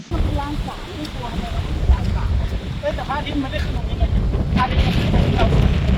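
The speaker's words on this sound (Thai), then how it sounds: "ทุกคนคะดูลมแรงมาก" Strong wind buffets the microphone at a national park campsite in Mae Hong Son, a loud continuous low rumble with gusts, while people talk throughout.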